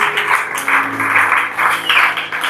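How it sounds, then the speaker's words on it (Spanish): Applause from a church congregation during a Spanish-language service, a steady, dense clapping that runs the whole time with no break, fairly loud and close, with some faint background tones underneath. "le damos un fuerte aplauso al Señor"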